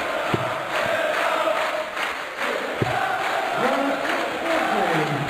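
A darts crowd at the PDC European Darts Championship 2014 second round makes a steady, continuous roar of cheering and chanting in a large hall, with a few sharp thuds and swelling voices.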